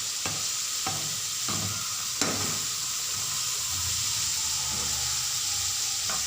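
Katta karawala, dried fish, frying and sizzling in hot oil, with a steady hiss throughout and a few sharp clicks of stirring near the start.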